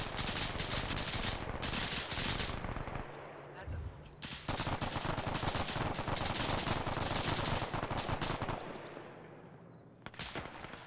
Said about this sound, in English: Small arms fire to our northeast.